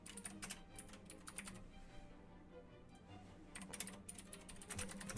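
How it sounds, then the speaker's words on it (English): Bursts of keyboard typing, with clusters of quick clicks separated by a quieter pause, recorded faint and close during a congressional oversight hearing on the FBI. "Oh, I'm typing in the wrong window,"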